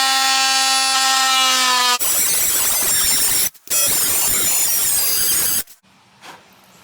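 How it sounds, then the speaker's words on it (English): A tool whines with a sustained squeal, then a rough, loud cutting noise grinds into a metal workpiece for a decorative sword and shield, briefly pausing once before stopping abruptly and leaving faint background noise. "I'll make a few more cuts like that to make these little spots a bit thinner."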